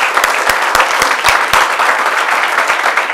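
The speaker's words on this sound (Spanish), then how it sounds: "Un gran aplauso a todos ustedes." Loud, sustained applause from a crowd of young people in Honduras, dense clapping with a few sharper claps standing out, continuing steadily throughout.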